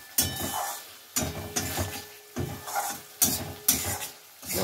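Spices and a bay leaf frying in oil in a pan as the masala for a tofu and potato curry cooks down, a close sizzle broken by regular scraping stirs of a spatula.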